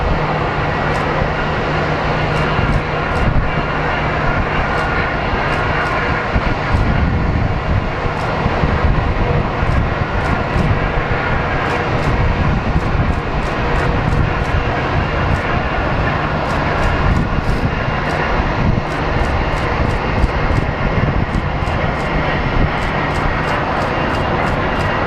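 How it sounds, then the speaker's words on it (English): A Southwest jet airliner arriving from Seattle lands at Phoenix Sky Harbor, its engines a loud, steady roar that fills the whole stretch with broad rumbling noise and no letup. "we'll probably be getting a Southwest coming from Seattle"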